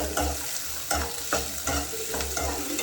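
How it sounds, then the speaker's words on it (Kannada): Chilies fry in a pan with a constant soft sizzle, broken by regular rhythmic stirring scrapes about every half second, close and fairly quiet. "ಇದನ್ನು ಚೆನ್ನಾಗಿ ಫ್ರೈ ಮಾಡ್ಕೊಳ್ಳೋಣ."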